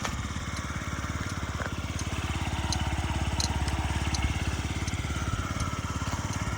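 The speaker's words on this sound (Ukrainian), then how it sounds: "Чистенько, тихенько працює скутер" A Yamaha Jog SA56 fuel-injected scooter engine idles quietly and steadily with an even, rapid low putter, close and continuous throughout.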